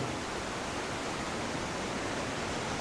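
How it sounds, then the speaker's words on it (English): Golitha Falls in Cornwall pours in a steady, dense broadband roar of falling water, loud and unbroken with no voices over it. "there's a lovely waterfall there behind us"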